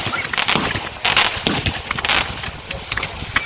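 Fireworks at St James in the City, Liverpool, popping and crackling in a dense outdoor volley, with several sharp bursts near 0.5, 1.1, 1.5 and 2.1 seconds over a continuous crackling wash.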